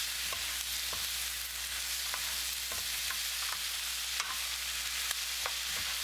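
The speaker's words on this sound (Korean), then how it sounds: "애호박이 설컹하게 익으면 양파, 파 넣고 2분 더 볶아주세요." Bacon, zucchini, onion and green onion stir-fry in a pan with a steady close sizzle, broken by occasional soft scrapes and taps of a utensil stirring, with no talking.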